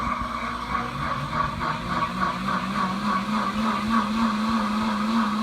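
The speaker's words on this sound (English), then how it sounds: "This is like a top of the line blender, and what makes it seriously top of the line is the fact that it cleans itself." A Pampered Chef Deluxe Cooking Blender runs its heated self-cleaning wash cycle. The motor whirs loud and steady, with a rhythmic churning pulse of water sloshing inside the jar, and no talk.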